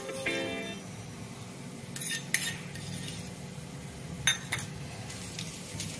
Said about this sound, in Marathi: ह्या ताटाला आपण तूप लावून घेऊया व्यवस्थित